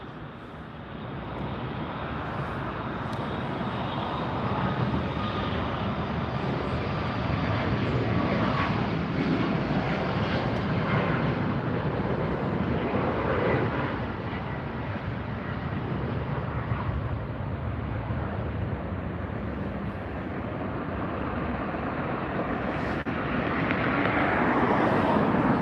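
A Southwest Airlines plane departs LAX, its jet engines a loud, sustained roar that builds slightly toward the end, with wind noise and no speech.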